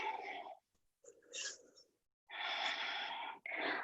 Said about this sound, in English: Exhale completely.